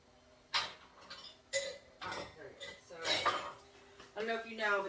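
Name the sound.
putting a plastic lid on a jar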